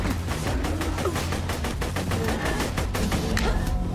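Rapid, evenly spaced automatic gunfire from the video game Borderlands 2 rattles continuously throughout, a steady stream of crisp shots over a dense game soundscape.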